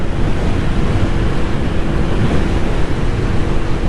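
Steady, loud wind roars across the microphone while riding a Lambretta G350 scooter, a dense continuous rush with no pauses and no voices.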